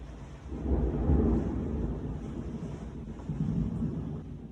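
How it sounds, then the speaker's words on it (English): A short but intense city thunderstorm rumbles with deep, rolling thunder over a steady wash of rain and wind, loud and close, swelling and easing in waves. "That was a really short storm."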